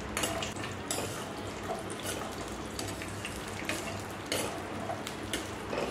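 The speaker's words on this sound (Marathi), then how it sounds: "हे काजू आपल्याला मस्त असे तुपामध्ये फ्राय करून घ्यायचे" Cashews fry in hot ghee with a steady, close crackling sizzle, broken by occasional light clinks of a utensil against the pan.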